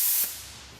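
A pneumatic orbital buffer, plugged into an air line, gives a short, loud burst of air hiss that quickly falls away to a softer, steady hiss.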